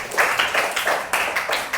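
Classroom applause, a group clapping in quick rhythmic bursts, close and fairly loud, with no talking over it.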